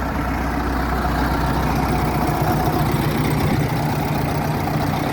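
A Fortschritt ZT303D tractor engine idles steadily nearby, a low continuous rumble with a fast, even chugging that holds constant for the whole stretch.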